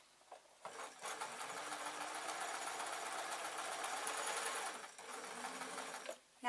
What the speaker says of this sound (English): slide underneath the sewing machine and do probably best described as tacking stitches